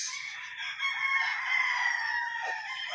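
A gamefowl rooster on a breeding farm lets out one long, loud, nearby crow that rises and then trails off, with faint background chatter at the low end.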